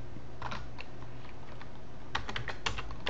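A computer keyboard is typed on in scattered taps, then a quicker burst of keystrokes near the end, close over a low steady hum.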